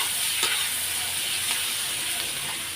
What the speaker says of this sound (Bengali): এখন এই যে পেঁয়াজ কুচিগুলো দিয়ে দেবো, যেহেতু ঝাল করব, ডিমের ঝাল। তো এইদিকে পেঁয়াজটা আমি ভেজে নেব লাল লাল করে।